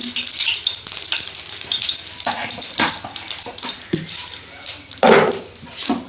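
Cumin seeds fry in oil with a close, loud, crackling sizzle, punctuated by irregular sharp pops and stirring clatters over six seconds.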